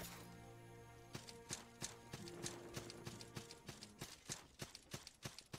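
Horse hooves clip-clop in the 2D video game Salt & Sanctuary, a regular rhythm of sharp, fairly quiet knocks over a steady low game drone.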